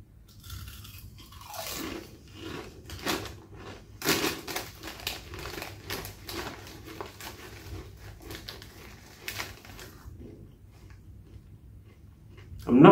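Lay's Creamy Forest Mushroom flavoured crisps crunch loudly up close as they are bitten and chewed, sharp irregular crackles with a crinkle of packaging near the end.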